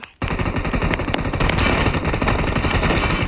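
Rapid automatic gunfire from a first-person shooter video game bursts in after a brief silence and continues as a loud, dense, sustained stream of shots.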